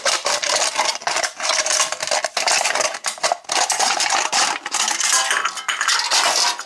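A metal can that once held tea is cut open with a tool, giving a dense run of loud, rapid metallic crunching and rasping with only brief pauses.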